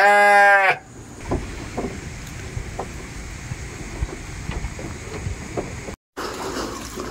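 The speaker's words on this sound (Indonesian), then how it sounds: "Ini kandang domba ya." Sheep in a pen behind a stilt house among rice fields, with one loud bleat at the start and then quieter bleats and farmyard noise nearby under steady wind.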